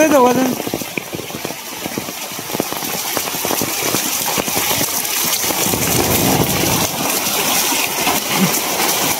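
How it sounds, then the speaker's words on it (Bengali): Heavy rain pours down in a dense, gushing roar that stays loud and constant throughout, with a person's voice briefly heard at the start. "কি বৃষ্টি গো কি বৃষ্টি"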